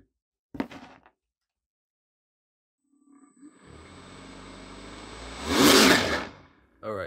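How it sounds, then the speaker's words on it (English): A 3D printed turbo jet fan spins up under light throttle, a rising whirring roar that builds steadily and peaks loud near the end, preceded by a brief knock and silence. "I barely touched the throttle and this thing sounds crazy."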